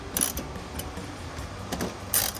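Ratcheting clicks and metallic mechanism sounds while bolts are tightened on a K&N Series 63 AirCharger cold air intake for a 2022-2024 Toyota Tundra, a few close bursts over steady background noise.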